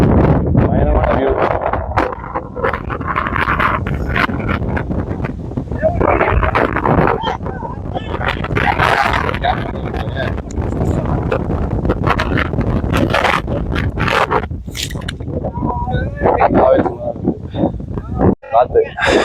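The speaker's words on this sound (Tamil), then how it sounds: "பயங்கரமான காத்தடிக்குது." Strong wind roars across the Parvathamalai mountain summit, loud, continuous buffeting gusts hitting the microphone for the whole stretch, with someone talking intermittently over it.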